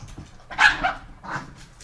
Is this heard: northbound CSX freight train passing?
no